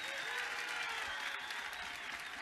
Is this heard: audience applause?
yes